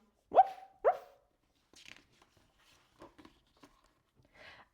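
A dog gives two sharp, close barks in quick succession, followed by faint scattered rustles and small noises in a quiet room.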